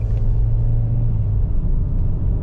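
A 2024 Nissan Kicks SR drives along a road, its steady low engine rumble and tire roar continuous and close throughout, with no voices.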